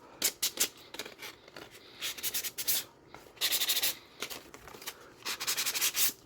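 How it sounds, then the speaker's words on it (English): Repeated bursts of sandpaper rubbing back and forth against a surface, close and fairly loud, coming in short rhythmic strokes separated by brief pauses, with no talking. "I have a sanding disc, but I have some sandpaper here too we can use."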